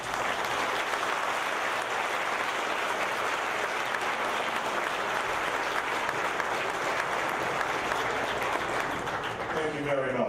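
Sustained, even applause from an audience fills about ten seconds at a constant loudness, a broad wash of many hands clapping, with a voice briefly emerging at the very end.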